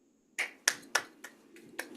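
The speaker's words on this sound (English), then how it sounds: "And then what we want to do is clap." Sharp single hand claps, six or seven of them, land at a steady spaced rhythm in a quiet room during a fascia body-awareness exercise, close and crisp with nothing else around them.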